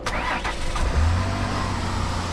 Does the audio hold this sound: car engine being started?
yes